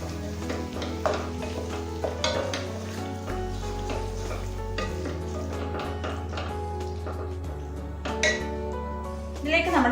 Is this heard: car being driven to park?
no